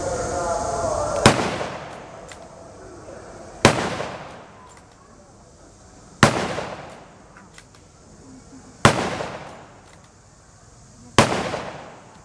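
Five sharp, loud rifle shots ring out from a bolt-action rifle, spaced about two and a half seconds apart, each with a ringing decay. Faint voices sit between the shots during an outdoor weapons demonstration.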